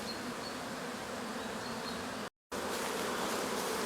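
A freshly split honeybee swarm at an apiary, slowly moving onto frames, fills the air with a dense, unbroken buzz, close and loud, with one brief cut to silence partway through.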